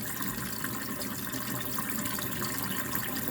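Water drains steadily out of a Whirlpool dishwasher being repaired for a no-drain fault, a continuous close rushing, splashing wash with no pauses and no voices.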